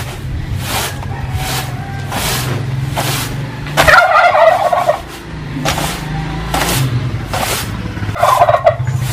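Farm turkeys gobbling loudly and repeatedly, rapid rattling calls recurring every second or so, with a louder nearby burst over a steady background hum.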